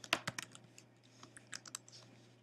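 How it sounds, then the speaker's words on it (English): Keys clatter on a computer keyboard as simple JavaScript code is typed, quick irregular bursts of clicks with short pauses, close and fairly quiet over a low steady hum. "we're going to type something very simple in JavaScript"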